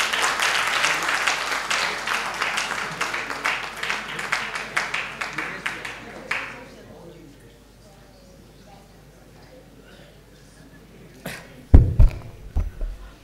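A hall audience at a birth anniversary commemoration claps loudly and steadily for several seconds, then the applause dies away into quiet, followed by a few scattered sharp knocks near the end.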